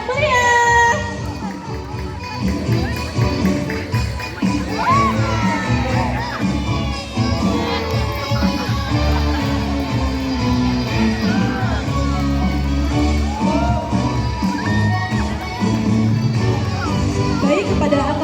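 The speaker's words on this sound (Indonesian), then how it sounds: "Tepuk tangan yang meriah." A student audience at a high school ambassador pageant final cheers, claps and shouts in a lively, continuous roar, with voices calling out throughout.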